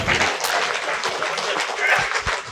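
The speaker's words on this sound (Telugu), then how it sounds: "గట్టిగా చప్పట్లు." Audience applause at a youth spirituality gathering as a speaker is welcomed onto the stage, a steady dense wash of clapping filling the hall for a couple of seconds without a break.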